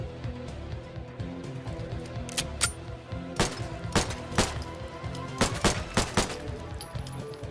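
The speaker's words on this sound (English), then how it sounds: "another handgun, Mannlicher Md 1905 by LucasLabs" Mannlicher Md 1905 handgun in a Fallout 4 mod fires a series of sharp, loud shots, single and in quick pairs, over a steady background of game music and ambience.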